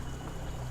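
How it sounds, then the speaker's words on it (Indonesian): Water from a fountain splashes and pours steadily at close range, a continuous broadband rush with no talking over it. "Wah itu ada air pancuran tuh."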